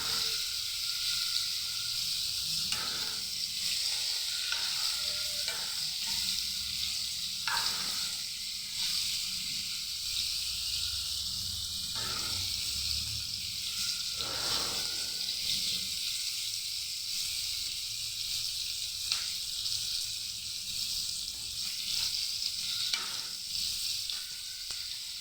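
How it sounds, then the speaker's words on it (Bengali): Cauliflower florets fry in a pan of oil with a steady, soft sizzle and hiss throughout, faint and close, with occasional light stirring scrapes and no talk. "আর ফুলকপিগুলো ভাজা হয়ে গেছে"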